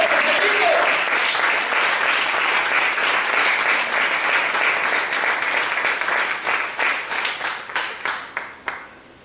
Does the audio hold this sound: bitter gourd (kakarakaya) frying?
no